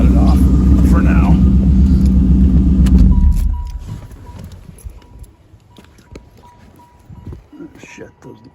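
A 1985 Trans Am engine idles with a loud, steady low rumble and then shuts off around a third of the way in, leaving quieter background noise with faint clicks and a few soft knocks.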